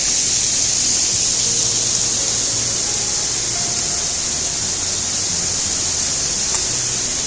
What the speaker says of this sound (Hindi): बीच में एक बहुत ही प्यारा सा ये झरना पड़ा है